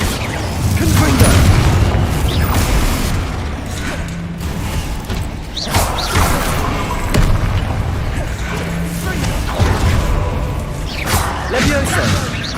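Repeated booming blasts of the Confringo fire spell in the Hogwarts Legacy video game, loud explosive bursts with whooshes and mechanical clanks, spaced every few seconds amid combat noise.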